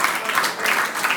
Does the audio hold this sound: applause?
yes